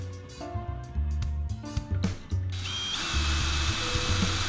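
A drill bores holes for a small hard drive shelf, with short whirring bursts separated by pauses and then a sustained higher-pitched run, close and fairly loud.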